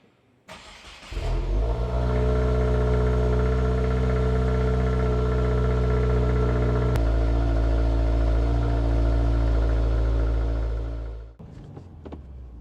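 A 2025 Subaru WRX tS with a 2.4-liter turbocharged flat-four starts and pulls away, its loud, close engine drone holding steady and shifting partway through before dropping off near the end.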